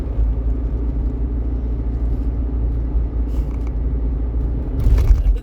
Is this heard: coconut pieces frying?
no